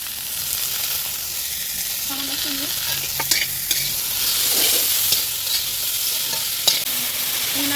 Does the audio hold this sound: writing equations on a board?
no